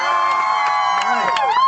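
A protest crowd cheers and whoops in a short, loud burst of overlapping voices at a rally in Crawford, Texas.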